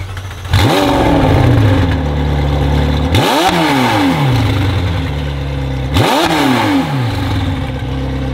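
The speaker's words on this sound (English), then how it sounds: "I love the sound of these 720Ss." A McLaren 720S engine revs hard three times in a row, each surge rising and then falling, loud and close, with a raspy exhaust roar.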